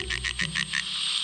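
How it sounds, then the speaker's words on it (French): Litoria peronii, the Peron's tree frog, gives a rapid string of about six high-pitched cackling pulses, close and clear, with no voices. "Lithoria peronii émet un gloussement aigu que l'on qualifie parfois de rire maniaque"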